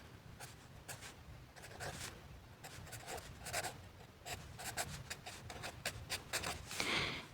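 A pen writing out a maths question by hand on paper, quiet close scratching strokes in irregular bursts with short pauses, no speech.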